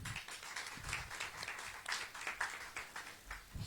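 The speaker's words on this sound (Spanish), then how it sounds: "Un fuerte voto de aplauso, por favor" Soft, scattered clapping from an audience at a Bolivian book presentation, faint and somewhat distant, with irregular hand claps over a few seconds.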